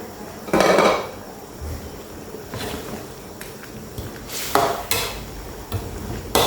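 Metal scraping and clattering in a pan with a few sharper knocks as sugar is dry-roasted while cooking a Thai herbal chicken curry with pumpkin, steady stirring sounds close by, no talking.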